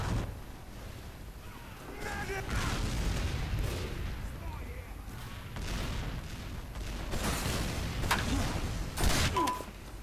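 Gunfire in Team Fortress 2 during a laggy match: a series of loud bursts and booming shots at irregular intervals over a continuous background, with a voice talking at times.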